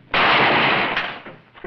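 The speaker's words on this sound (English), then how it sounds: "The gun went off, didn't it?" A single loud gunshot in a Western cowboy film, a sharp close blast that decays into a short reverberant tail.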